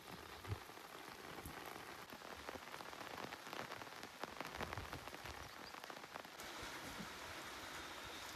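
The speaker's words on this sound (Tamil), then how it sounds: "சாப்பிட்டு முடித்தோம் உடனே பார்த்தீங்கன்னா மழை வர ஆரம்பிச்சிருச்சு" Rain falls in a village in southern India, a steady, even hiss of drops striking surfaces, with scattered sharper patters over the constant wash and no voices.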